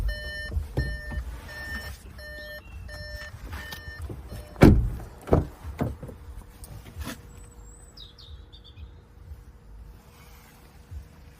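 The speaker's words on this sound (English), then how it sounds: "If we put the vehicle into reverse, we can see that it comes with a parking camera with parking sensors." Parking sensor on a Volkswagen e-Up in reverse gives a steady run of short, evenly spaced electronic beeps early on, with a low car hum and a few louder knocks underneath.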